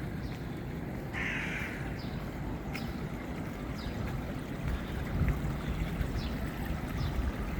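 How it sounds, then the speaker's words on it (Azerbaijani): Birds call at a resort hotel in Manavgat, Antalya, among palm trees and pools: several short, crow-like caws and chirps sound at a moderate distance over a steady outdoor wash of wind and ambient noise. "quşların səsi."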